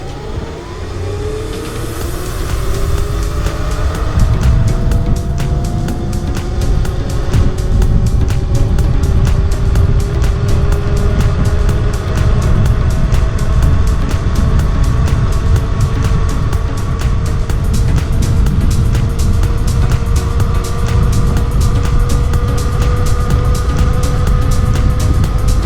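A Razor MX500 1800W 48V electric scooter in high mode at speed, giving a steady motor whine that climbs in pitch over constant rushing wind and road noise, loud and close throughout.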